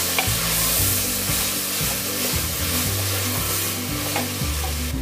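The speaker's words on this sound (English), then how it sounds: "Add 2 tomatoes, finely chopped. Just toss it up for a minute or so" Finely chopped tomatoes stir-fry in a pan for mixed vegetable dal khichdi: a loud, steady sizzle with rhythmic scraping and tossing strokes, and a low steady hum underneath.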